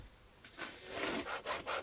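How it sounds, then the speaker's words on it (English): Coarse 80 grit sandpaper is rubbed over a weld on a knife, giving a few quick, quiet, rasping back-and-forth strokes. "I'm gonna take some 80 grit sandpaper."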